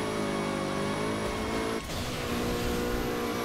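A car engine in Burnout Paradise Remastered drones steadily at high revs, with a brief dip near the middle before the loud, continuous roar resumes.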